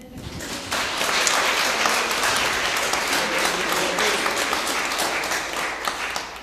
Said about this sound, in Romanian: o să vă rog să-mi acordați un rând de aplauze